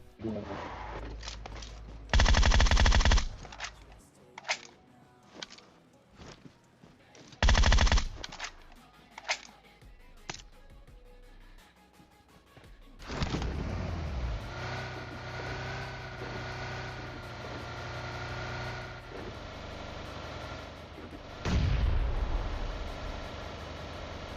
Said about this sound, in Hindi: खैर जोन के बाहर है तो जोन के अंदर भी जाना ही पड़ेगा, तो मैं गाड़ी रोकता हूं और गुरुजा पेलता हूं।